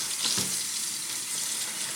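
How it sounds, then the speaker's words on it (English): Cold water pours steadily from a tap into a bowl to wash soaked food during cooking, a continuous close hiss of running water with no voices. "I'm going to add more water to it and let it sit."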